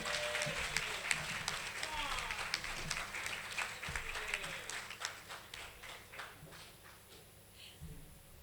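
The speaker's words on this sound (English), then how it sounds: "Please give a huge round of applause" An audience claps at a graduation ceremony as a graduate is called up, the scattered claps fading gradually as the applause winds down.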